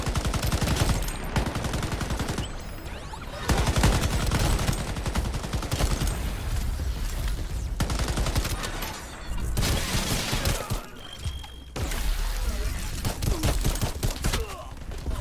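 Rapid, sustained automatic fire from the XM-27 Pacifier in the shooter game Shatterline, loud dense bursts broken by brief pauses, with faint game effects between volleys.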